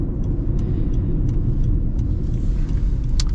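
A 2024 Honda CR-V with a 1.5-liter turbo engine and CVT cruises along. Its steady low engine and road rumble holds at an even level throughout, with light faint ticks above it.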